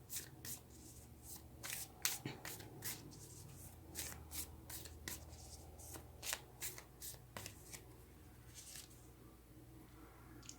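Tarot cards are shuffled and rubbed close by, a quiet, steady run of soft riffling and brushing sounds with brief flicks, no voice heard.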